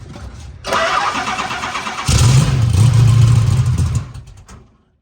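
A race transporter's engine cranks after two throttle pumps, then catches and roars loudly for a couple of seconds before cutting off into silence, close and alone.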